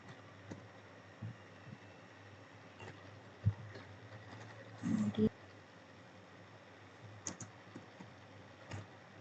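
Java code being typed on a computer keyboard, with soft, scattered keystrokes and a brief cluster of clacks at a quiet distance over a steady background hiss.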